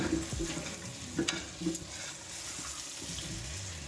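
Curry with tomatoes frying in a covered pot, a steady close sizzle with a few clinks and stirring knocks early on, no voices.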